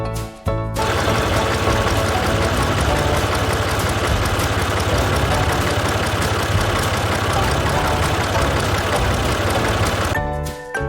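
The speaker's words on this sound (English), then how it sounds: "That's a tractor." A farm tractor engine running steadily, a loud, continuous mechanical drone with rapid rhythmic knocking that holds for about ten seconds and then stops.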